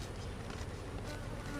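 Honey bees buzzing around a weak hive, a dense, steady, close drone filling the whole moment without a break.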